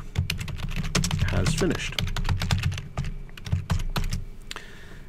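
Rapid keystrokes of code being typed on a computer keyboard, a steady stream of clicks with short pauses, heard close alongside a person speaking.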